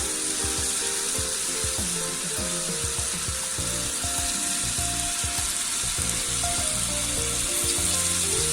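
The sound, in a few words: mutton kebabs frying in a non-stick pan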